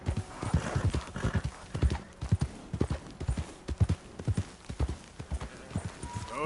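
A horse gallops in Red Dead Redemption 2 with rapid, steady clip-clop hoofbeats in a continuous rhythm close by, and a whinny is heard near the end.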